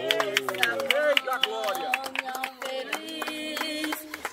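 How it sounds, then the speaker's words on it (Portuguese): Worship congregation at a Brazilian church clapping along to music, rhythmic handclaps mixed under singing voices and a loud accompaniment. "Palmas para Jesus."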